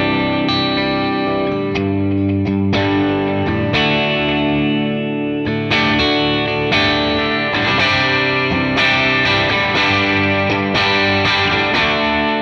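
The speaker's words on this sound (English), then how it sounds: "And what you just heard there was the Edge of Breakup profile, and it sounds like this." Electric guitar played through a Kemper Edge of Breakup profile from a '66 AC Top Boost pack, slightly overdriven strummed chords ringing out in a steady rhythm, loud and alone with no talking.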